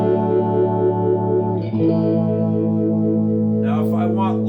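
Blackstar Stereo 20 guitar amplifier playing a sustained chord through its modulation effect alongside reverb and delay, giving a steady wavering tone, with a brief change partway through and a shimmering swell of higher notes near the end.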